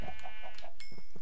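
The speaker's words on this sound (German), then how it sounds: "Und natürlich die Hühnchen" Chickens clucking in the Minecraft video game, a quick series of short clucks close by, followed by a brief higher squawk.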